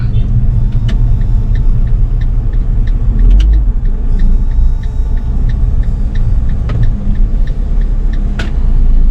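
A Fiat 500 car drives and turns around, its steady low engine rumble and road noise continuous and close throughout, with faint ticking clicks on top.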